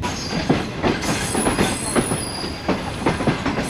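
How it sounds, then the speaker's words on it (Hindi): The 28 Down Shalimar Express rolls into Faisalabad railway station with rhythmic clickety-clack from wheels crossing rail joints, a faint high wheel squeal, and a steady rumble of passing carriages close by. "28 down Shalimar express Faisalabad railway station पे अप्रोच कर रही है"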